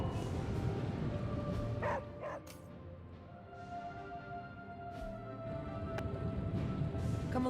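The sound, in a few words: dog Charlie barking, from video game Marvel's Midnight Suns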